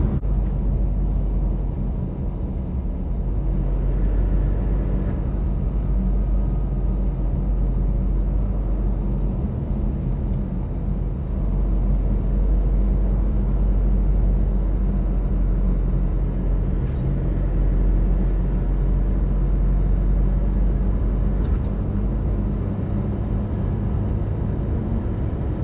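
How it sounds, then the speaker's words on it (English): Steady car traffic climbs a mountain road, heard as a continuous low, loud rumble of engines and tyres that stays even throughout with no voices. "So traffic's crazy going up the mountain."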